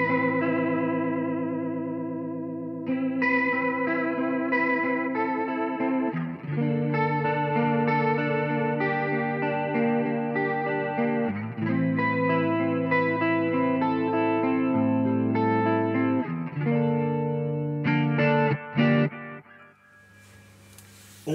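A Danelectro Billionaire Big Spender spinning-speaker pedal on its fastest setting gives a guitar a fast, warbling rotary-speaker shimmer. The sustained chords and notes play alone for about twenty seconds.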